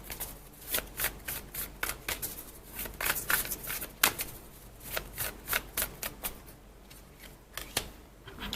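Tarot and oracle cards, including a Wild Offering deck, shuffled and drawn by hand in a quiet room, a rapid run of crisp riffling slaps and flicks coming in irregular bursts, close up, with no talk.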